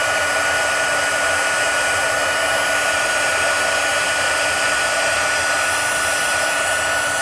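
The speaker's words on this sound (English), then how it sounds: "this heat tool gets really hot, so you want to really be careful with your fingers" A heat tool blows hot air over clear embossing powder, a loud, constant roaring whoosh with a steady whine that runs unbroken and close by.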